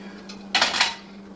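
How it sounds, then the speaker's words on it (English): Metal pans clatter as they are shifted into a kitchen cupboard during a decluttering session, a short burst of clanking about half a second long over a steady background hum. "there might be room in here now for some of these pans."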